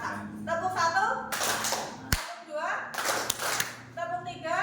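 In a classroom, a teacher leads a rhythmic hand-clapping game, with bursts of sharp claps in counted patterns that alternate with spoken instructions, heard close and fairly loud.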